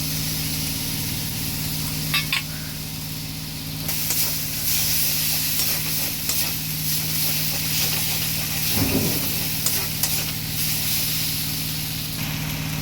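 Cumin paste sizzling in a pan while cooking jackfruit with prawns, a loud continuous hiss and spatter that swells after a few seconds and carries on steadily with faint scraping of stirring.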